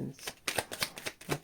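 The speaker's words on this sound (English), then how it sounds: "Okay, last shuffle." Tarot cards shuffle close up in a series of quick riffling bursts, about six crisp rustling strokes in an uneven rhythm.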